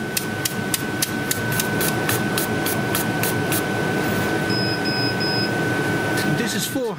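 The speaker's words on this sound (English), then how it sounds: "It's only the switching on and off of the beam that you can actually hear." Rapid clicking pulses of a laser engraver switching its beam on and off during 3D engraving in RDWorks, over a steady machine hum with a faint high tone.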